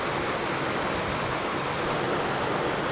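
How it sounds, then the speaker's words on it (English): A waterfall beside white cottages in a hilly landscape, a steady, broad rushing roar of falling water with no other sounds over it. "We've got the waterfall coming in towards the left hand side, running down to the right."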